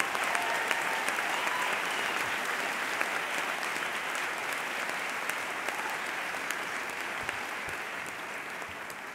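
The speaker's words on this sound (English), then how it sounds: "give poetry a round of applause" Sustained applause from a large audience at a college inauguration ceremony, steady and dense clapping filling the whole stretch with no talk over it.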